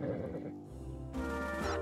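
A horse neighs in a German-dubbed Fireman Sam cartoon, a short whinny that rises and falls clearly over a light score, with no talk.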